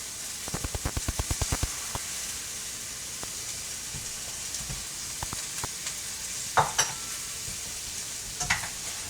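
Bacon sizzling and frying in neutral oil in a pan for kimchi bacon fried rice, a steady loud hiss with a quick run of rhythmic stirring clacks early on and a few louder scrapes later.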